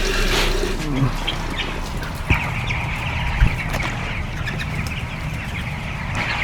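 Chicks chirp and peep continuously in a poultry nursery full of young chickens, a steady high twittering with a few louder calls over a rumbling background.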